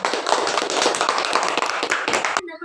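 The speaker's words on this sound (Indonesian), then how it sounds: "Kasih tepuk tangan." Classroom applause as pupils clap for a group presentation, brisk, uneven clapping from many hands that stops abruptly near the end.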